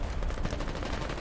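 Rapid automatic gunfire in the war video game Foxhole, a dense and continuous burst of shots that fills the whole moment at moderate loudness.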